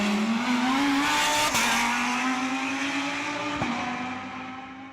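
A Renault Sport R.S. 01 race car roars past, its high engine note holding steady with brief gear-change dips, then fading slightly as it moves away.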